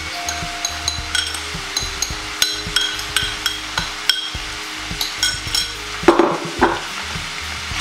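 Onions and garlic frying with browned minced meat for a bolognese, a steady sizzle broken by repeated sharp knocks and scrapes of a spoon stirring against the pan, fairly loud and close with no voice.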